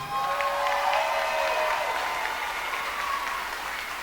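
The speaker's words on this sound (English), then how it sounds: "All right, another big round of applause." A crowd applauds steadily at a fifth grade graduation ceremony, an even wash of clapping with light cheering held throughout the short stretch at moderate level.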